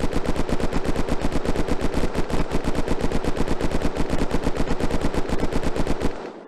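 Rapid automatic gunfire from a weapon in a 1938 alternate-history game mod, a steady, loud burst of evenly spaced shots lasting about six seconds before stopping abruptly.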